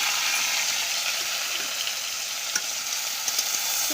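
Dried fish (shukhua) fries in a little oil with a dense, continuous hiss and crackle up close, plus a few faint clicks of stirring.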